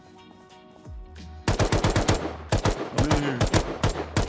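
LMG machine gun fire in the survival game Rust, loud sustained bursts of rapid shots broken by short pauses, with a brief spoken line just before the firing.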